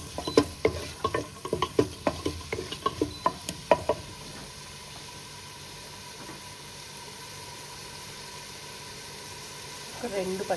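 Onions with green chillies sizzle in a pan for mushroom pepper fry, with a steady close hiss, a run of sharp stirring clatters at the start, and quieter frying afterwards.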